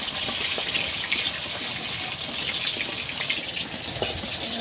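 Fish browning in hot oil as the pieces are flipped, with a loud, dense, unbroken sizzle close by and scattered small crackles throughout.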